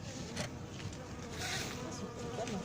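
Honeybees fly around a newly installed colony on a rooftop in Paris, a faint, continuous buzzing hum with individual bees passing close now and then.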